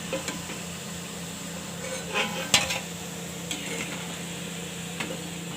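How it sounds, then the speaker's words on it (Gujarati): Poha rolls fry in hot oil with a steady, quiet sizzle, broken by occasional light clinks of a utensil against the pan, and no talk. "તો આને આપણે તળાવા દેવું, ગોલ્ડન બ્રાઉન જેવા થવા દેવું."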